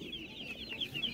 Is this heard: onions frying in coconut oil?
no